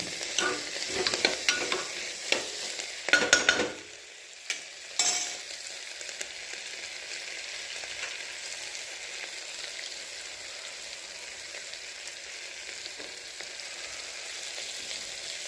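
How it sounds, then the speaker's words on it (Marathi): Soybean chunk khichdi with coriander being stirred in a pan, with scraping spoon strokes and clatter in the opening seconds, then a steady soft sizzle continuing alone. "कोथिंबीर टाका हलवून घ्या ही अशी सोयाबीन वड्याची"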